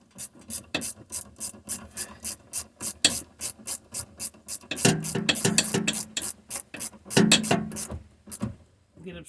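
A ratchet clicks in rapid, repeated strokes while tightening bolts on a 2006 second-generation Prius hybrid battery, close up, with short pauses and some rubbing between bursts and faint speech in the background.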